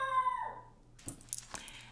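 A dog barks and howls in the background of a home where someone is crocheting: a drawn-out, falling howl-like cry, then a few short, faint barks further off.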